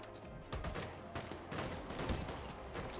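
Rapid gunfire crackles through a Halo match, dense overlapping shots with sharp repeated transients over about three seconds, loud and close.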